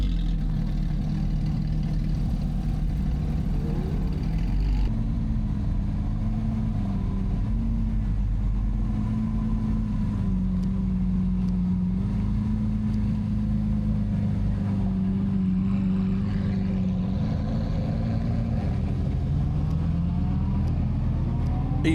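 An orange Lamborghini Aventador SV and a Lamborghini STO drive by at a Car Friday supercar gathering in Germany. A loud, continuous engine drone shifts in pitch throughout, with no voices heard.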